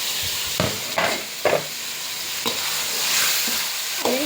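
Chopped carrot, capsicum and tomato stirred as they fry in a pan, giving a steady sizzle broken by several scraping stir strokes, close and moderately loud with no talking.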